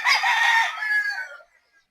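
An imported McLaren rooster, a bullstag used for breeding, gives one loud, close crow that holds strong and then trails off into quiet at the end, with no talk over it.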